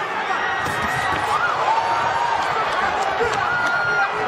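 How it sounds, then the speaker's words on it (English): A boxing arena crowd at a knockout-heavy fight card keeps up a dense, steady roar of buzzing chatter and cheering, loud and continuous throughout, with voices blended into the mass. "This crowd is buzzing."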